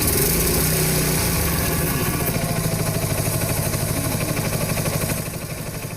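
A farm tractor engine idles close by at a protest by farmers, chugging in a steady, rhythmic pulse that eases slightly toward the end.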